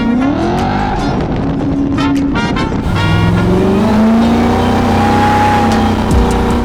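A Hellcat supercharged V8 in a 1967 Dodge Dart accelerates hard and close, its engine roar climbing steadily with a high rising blower whine layered over it and a shift partway through.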